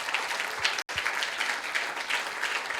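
Church congregation giving a loud round of applause, a continuous crowd of clapping hands with a brief dropout partway through and no speech over it.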